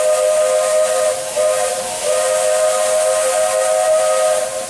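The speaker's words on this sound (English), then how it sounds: "This crossing whistle is not for parade floats or for cars" A steam locomotive's loud, sustained crossing whistle blows close by, a steady tonal blast with hissing steam, dipping briefly twice before resuming.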